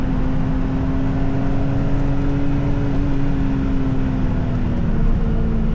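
A Mazda Miata at pace on the Nürburgring, heard from inside as a steady engine drone holding one pitch, sliding slightly lower near the end, with road and wind roar underneath and no speech.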